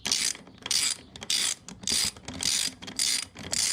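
A ratchet tightens bolts on a Honda XR80R dirt bike, with loud, close bursts of rapid clicking repeated about seven times with short pauses between strokes.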